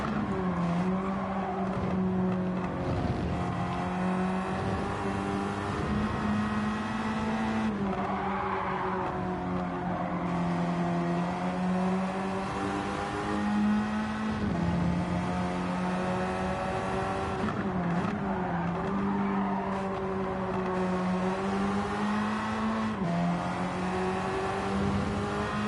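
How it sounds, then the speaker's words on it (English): A standard road car in a racing video game, its engine droning continuously at high revs with pitch rising and dipping through gear changes and corners, tires squealing intermittently, loud and unbroken throughout. "Standard road car, remember."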